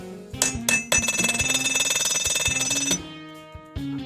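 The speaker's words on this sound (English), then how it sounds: "I'm using a ball peen hammer with the ball part to do the hammer effect" Metal struck repeatedly with the ball end of a ball peen hammer while texturing a mask piece, a series of near, ringing clanks with a bright sustained metallic ring that fades out.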